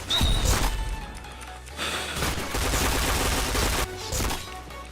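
Rapid gunfire in the online shooter Point Blank rattles in loud bursts with brief pauses, dense and close, layered over game effects.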